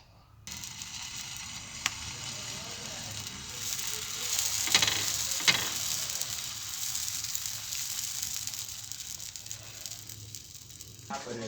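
Dosa batter sizzles steadily on a hot pan, a continuous crackling hiss that swells in the middle with a few sharper pops, close and fairly quiet, with a voice talking over parts of it.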